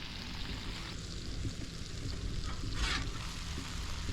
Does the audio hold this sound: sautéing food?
yes